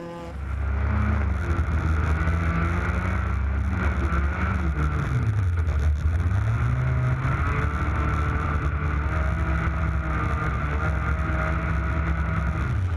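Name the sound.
race cars driving on ice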